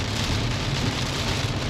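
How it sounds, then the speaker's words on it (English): Steady rain falling outdoors on the road into Mesopotamia, a dense continuous hiss of drops on surfaces with a low rumbling undertone, even and unbroken throughout. "Now it's raining?"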